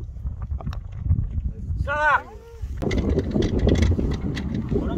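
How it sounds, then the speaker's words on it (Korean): Strong wind gusts on a golf course, a steady low roar buffeting the microphone up close, with a short chirping sound midway and people talking over it. "바람 많이 불어주는데?"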